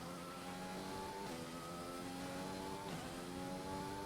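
Formula 1 car engine in the racing game F1 2020, a steady high-pitched whine that climbs through the revs, dips briefly at gear shifts, then rises again, with no talking.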